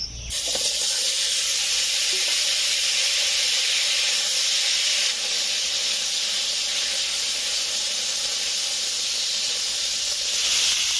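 Potatoes and papaya frying in a little leftover fish-frying oil in a wok, giving a loud, steady, close hiss and sizzle that continues without a break.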